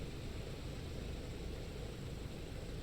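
A piston engine of a PMDG DC-6B airliner runs in a flight simulator game as it stabilises after starting, giving a steady, even, broadband roar with no pauses.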